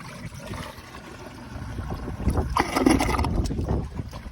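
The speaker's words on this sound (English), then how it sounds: "all the water got out, and it's a weak flush" A weak flush of a Rheem Claymore flushometer toilet: water gurgles and swirls faintly, swelling into a louder rushing drain midway, then trailing off, with no talking.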